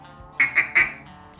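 Three short, sharp quacks close together from a hand-blown mallard duck call, imitating a hen mallard sitting on the water with a stuttering feed call; loud and near, then silence.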